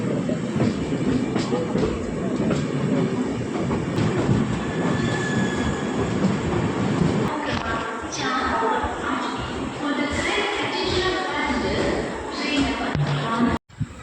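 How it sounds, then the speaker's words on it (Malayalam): Mysuru–Thiruvananthapuram North Express pulling into Palakkad Junction, a loud sustained rumble of wagons with clattering wheels and brief squeals, voices talking over it, then a sharp clunk at the end. "ഈ വരുന്ന വണ്ടി നമ്മുടെ മൈസൂർ തിരുവനന്തപുരം നോർത്താണ്"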